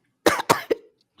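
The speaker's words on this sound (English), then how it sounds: "I was just waiting for you to cough." Three quick, loud, close coughs from one person in a row, followed by near silence.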